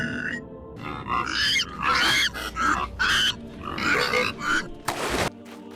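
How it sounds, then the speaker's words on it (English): Pigs in the video game I Am Jesus Christ grunt and oink repeatedly in loud, close bursts, several animals overlapping in an agitated rhythm that ends with a sharp squeal. "Oh no, pigs, run!"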